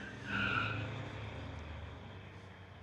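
Street legal cars launch off the line at a drag strip, with a loud burst of tire squeal and engine roar that fades into a sustained rumble.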